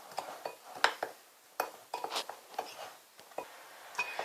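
Biryani masala spices and salt being mixed by hand in a kitchen, heard as a run of light, close clinks and scrapes of a spoon against a bowl in irregular bursts, with no talking.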